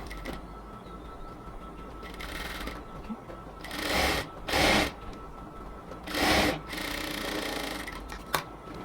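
A sewing machine stitches a strip onto a cotton palazzo in a few short, fairly loud runs of rapid needle chatter, separated by quieter handling of the fabric.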